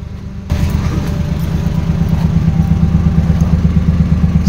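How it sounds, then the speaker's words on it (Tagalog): A Suzuki DA63 truck's K6A engine, miswired so it keeps running with the key removed, idles close by with a steady, slightly clattering rhythmic thrum that starts abruptly and holds evenly. "So naka-andar pa rin ang makina at tatanggalin ko ang battery terminal."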